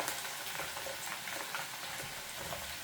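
Catfish nuggets fry in hot oil in tempura style, giving a steady, close crackling sizzle with bursts of popping that runs throughout, with no talking.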